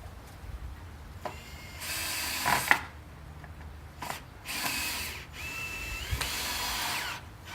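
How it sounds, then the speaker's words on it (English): A power drill driving screws into the plywood floor of a backyard chicken coop, several short whirring bursts of varying length with pauses between, close and fairly loud, no talking. "So I'm going to go ahead and screw this in here."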